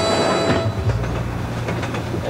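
A train rolls along rails with a continuous low rumble and faint rhythmic clicking, heard close and fairly loud with no voices.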